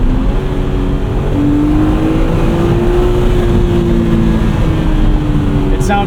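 The 3.2 liter inline six of a 2008 BMW Z4 M Coupe revs and winds out steadily, heard loudly from the cabin with a smooth rising engine tone and a voice speaking over it.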